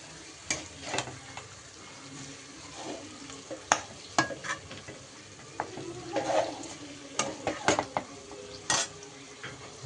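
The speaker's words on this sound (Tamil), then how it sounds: "நல்ல சிக்கனை பார்த்திங்கன்னா நல்லா பரட்டி விட்டு ஸ்லோவில் இருக்கட்டும் கொஞ்சம் நேரம்." Chicken stirred and fried in a pan, a low steady sizzle broken by frequent sharp clinks and scrapes of a spoon against metal, close-up with no talk.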